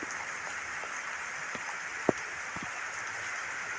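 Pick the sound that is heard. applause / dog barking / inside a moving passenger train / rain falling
rain falling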